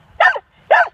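A dog barks at a lawnmower: two loud, close barks in a row, separated by a short pause, with no engine noise audible.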